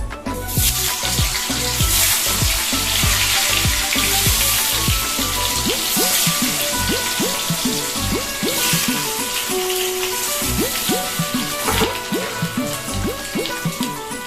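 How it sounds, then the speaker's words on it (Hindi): Boiled potatoes dropped into hot oil in a home kitchen sizzle and crackle steadily, a dense bright hiss with scattered pops running the whole time, close and loud with no talking. "अभी जो हम लोगों ने पहले से बॉईल किया हुआ आलू को हम लोग इस तेल पे डाल देंगे"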